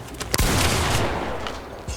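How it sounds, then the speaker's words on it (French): A firecracker bursts with a sharp nearby crack, followed by a loud sustained crackling spray of pops that trails off, with one more small pop at the end. "Il a envoyé un pétard."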